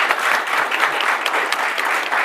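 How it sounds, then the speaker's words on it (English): Live studio audience applauding a discussion panel at the end of a Star Trek: First Contact episode, dense steady clapping close and loud throughout. "let's have a round of applause for our panel"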